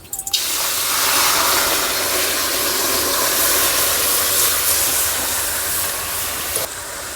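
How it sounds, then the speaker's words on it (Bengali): Water pours into a kadai set up for steaming dhokla in a home kitchen, a steady, close rushing hiss that holds for about six seconds before easing off. "এবার কড়াই দিয়ে দেবো জল।"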